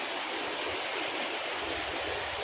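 Steady rushing of mountain spring water flowing, a continuous broadband wash like a small stream or spring outlet, fairly close with no voices.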